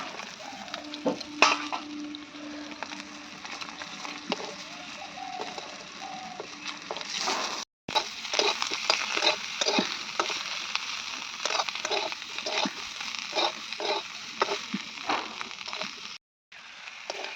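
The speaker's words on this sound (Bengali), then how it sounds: "এদিকে তো ফুলকপিগুলো ভেজে নিলাম" Cauliflower florets are stir-fried in a pan, with a continuous crackling sizzle broken by repeated scraping and clinking strokes of a spatula, close and busy throughout, with two brief silent breaks.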